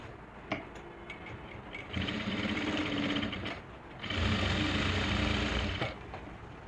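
A sewing machine stitches a suit lining in two runs: a short steady whir, a pause, then a longer louder burst of motor hum and needle chatter, with no talking.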